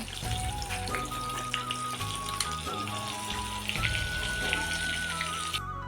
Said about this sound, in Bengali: ডিমগুলো যে বেসনে ডুবিয়ে রাখা হয়েছিল ওইগুলো এখন মা ভেজে নিচ্ছে।